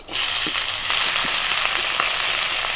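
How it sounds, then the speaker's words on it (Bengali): Chopped onion frying in hot mustard oil in a wok makes a close, dense, unbroken sizzle with scattered small crackles and pops throughout, and no voices. "কড়াইতে আবারও সর্ষের তেল দিয়েছি দিচ্ছি পেঁয়াজ কুচি"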